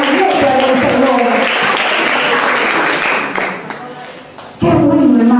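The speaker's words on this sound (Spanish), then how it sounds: "Den un aplauso al Señor" A church congregation breaks into loud, energetic applause that gradually thins and fades, then a voice speaks again near the end.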